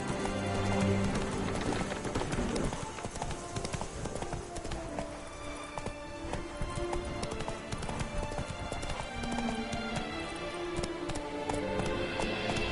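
Horse hooves galloping at a steady, rapid clip-clop rhythm in The Witcher 3, loud and continuous throughout, with game music and ambient sound layered underneath.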